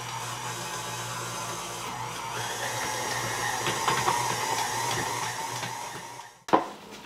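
A stand mixer kneads white bread dough with a continuous whirring motor hum at close range, ending with a sudden knock as it stops.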